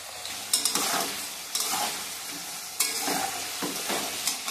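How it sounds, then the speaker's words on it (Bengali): Sliced potatoes fry in hot oil with a steady sizzle, broken by several sharp scraping stirs and spatula clinks at irregular intervals, close and fairly loud throughout. "এবার আলুগুলো ভেজে নেব"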